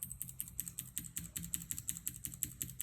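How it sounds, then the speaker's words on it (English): Gateron Blue clicky mechanical keyboard switches are typed on rapidly up close, giving a steady stream of crisp, sharp clicks with no talk. "Now let's take a look at a more clicky switch, the Gateron Blues."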